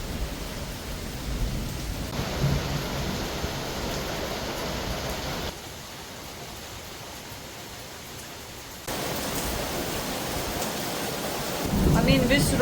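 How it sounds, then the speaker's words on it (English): Heavy rain with strong wind sweeping through a garden in Sicily, a steady broadband wash with gusty surges that drops briefly and then swells back, loudest near the end. "And the wind is quite strong, and rain is quite strong as well."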